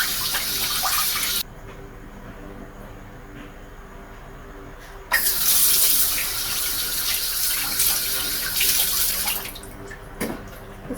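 Tap water runs for face washing during a nighttime skin care routine, a steady rush that stops after about a second and returns louder for several seconds before tapering off.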